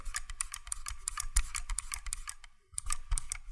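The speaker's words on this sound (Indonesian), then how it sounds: "bakal ada suara kayak squeaky gitu yang keluar dari mouse kayak ini" Rapid, crisp clicks come from the left button of a Rexus Daxa Air II wireless mouse with a squeaky fault, a close, steady run of sharp ticks with a short pause before resuming.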